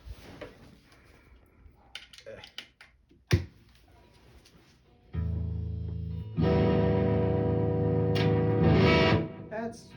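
An electric guitar with heavy distortion rings out in sustained, buzzing chords after a few clicks and taps, loud and close.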